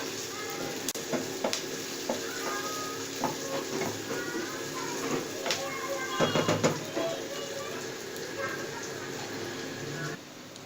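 Onions frying in a pan to a light pink give a steady sizzle, with stirring scrapes and clattering utensil knocks and a voice talking over it.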